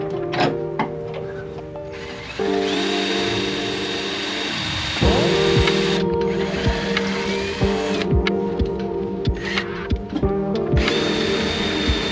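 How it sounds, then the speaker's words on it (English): A power drill whines loudly and continuously, its pitch shifting as the bit bites into metal plates for Ford F150 rock sliders, with brief pauses between passes. "I got the holes drilled out to the proper size"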